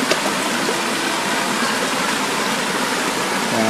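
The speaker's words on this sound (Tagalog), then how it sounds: "maliit lang yung sapa rito sa amin" Water in a small creek flows steadily just after a flood, a continuous broadband rush and gurgle that stays even and fairly close throughout, with no voices.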